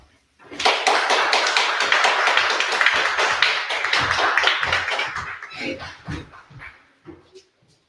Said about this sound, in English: Everyone, please stand to your feet and give him a round of applause